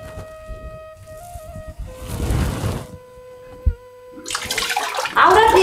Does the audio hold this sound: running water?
yes